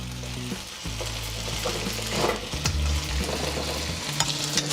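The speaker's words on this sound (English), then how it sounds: "Once you got all your pieces touching the wok, we're gonna let this cook for about 2 minutes." Chicken chow mein frying in a hot wok, a steady close sizzle with scattered crackles and a low hum underneath, running unbroken and fairly quiet.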